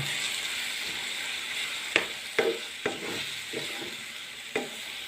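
Papaya pieces wilting in hot oil for a pickle, a soft continuous sizzle with a few sharp spoon taps and scrapes against the pan.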